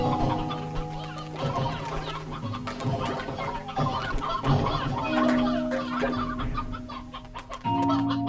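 Many chickens cluck and squawk busily in the video game Slime Rancher, a dense, continuous jumble of fowl calls layered over a steady tonal game soundtrack.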